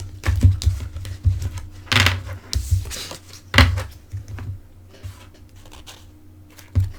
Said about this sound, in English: I was shuffling these cards